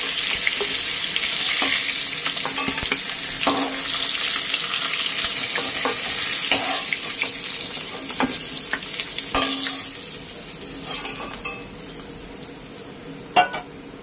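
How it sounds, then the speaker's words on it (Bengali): Hot oil sizzles and crackles steadily as catla fish heads fry, with a spatula scraping and clinking against the pan at intervals. "দেখো, আমার মাছের মাথাটা কিন্তু ভাজা কমপ্লিট হয়ে গেছে।"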